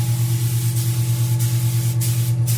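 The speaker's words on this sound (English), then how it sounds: "I don't want to blast her with any spray" An airbrush spray-tanning gun sprays tan solution onto skin during a custom spray tan session, giving a steady close hiss over a low compressor hum, with faint pulsing and short bursts toward the end.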